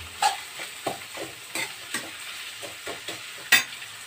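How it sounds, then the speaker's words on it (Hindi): Chopped onions fry in oil for a green onion and potato dish, sounding like a close sizzle punctuated by regular scraping stirs of a spatula, roughly every half second, with no voices. "तो प्याज को हमने डाल दिया, और अब हम प्याज को अच्छे से"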